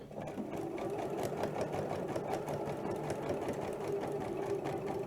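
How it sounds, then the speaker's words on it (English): A sewing machine stitches down a quilt binding with a fast, even mechanical whir and rapid needle ticking, running continuously at close range and fairly quiet, with no speech. "So that is how you sew it down."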